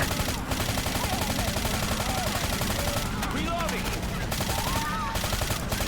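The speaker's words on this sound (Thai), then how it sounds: "เสียงปืนกระบอกนี่บักไปเลยอะ เสียงมันแปลกๆอะเสียงมันซ้อนเนี่ยซ้อนกับปืนสกา" Rapid gunfire from Left 4 Dead 2 on expert difficulty sounds as dense, loud automatic bursts, unbroken and close, while players talk over it.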